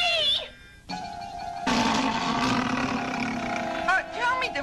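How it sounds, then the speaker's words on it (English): A cartoon dinosaur lets out a loud, sustained, rumbling roar that carries for several seconds after a short high squeal and a quiet gap, with a cartoonish warbling tone near the end. "Tell me, DeFazio, did these ears just hear that tree trunk roar?"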